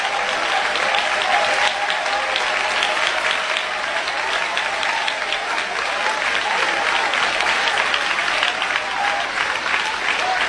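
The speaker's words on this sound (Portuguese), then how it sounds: "batam palmas e glorifiquem a Jesus" A church congregation claps and applauds together in a sustained, even roar of hands that continues without a break from start to finish.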